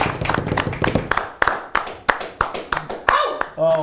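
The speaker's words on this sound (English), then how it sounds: "A big round of applause." Steady, fairly even hand claps from an audience at a Smash Summit 6 late night show ring out one after another over a busy background with voices, ending in a brief tonal swell.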